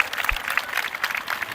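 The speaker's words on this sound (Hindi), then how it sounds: "आप लोग तालियां बजा करके" Crowd at a spiritual gathering on an anti-drug awareness march in Kanpur claps in a brief, moderately dense patter, a short stretch of scattered applause at even, medium loudness.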